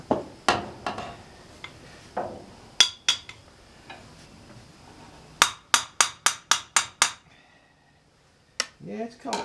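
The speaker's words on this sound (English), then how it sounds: "Had to get a better hammer." A heavier hammer striking a stuck metal bracket and adapter at a sawmill: sharp ringing blows, a fast run of six or seven evenly spaced strikes, then a brief lull before a couple more hits and clattering.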